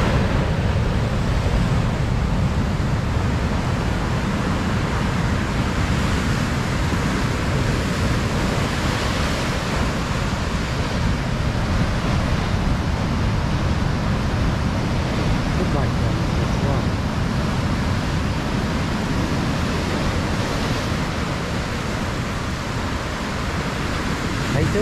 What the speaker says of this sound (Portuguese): Olha o marzão, coisa linda.